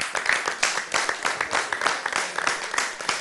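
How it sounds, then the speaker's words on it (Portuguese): An audience gives a round of applause on a talk show: loud, dense clapping close by, sustained evenly for a few seconds with no speech. "Uma salva de palmas para vocês."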